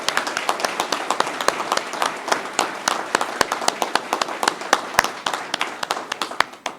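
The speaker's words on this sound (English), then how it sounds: "Congratulations to all our scholarship awardees, and we applaud your desire to serve in our armed forces." Audience at a Memorial Day ceremony applauding scholarship awardees, a dense, steady wash of many hands clapping with sharp individual claps standing out, sustained at moderate loudness throughout without talk.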